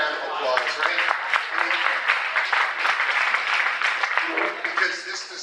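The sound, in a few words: audience applause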